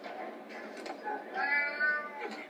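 A cat in the video game Alice: Madness Returns meows several times in a row, drawn-out plaintive cries at close range.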